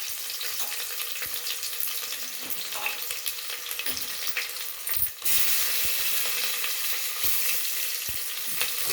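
Onions frying in a pan of oil for a Telugu menthi pappu dish, a steady crackling sizzle throughout that swells louder about halfway through with faint stirring.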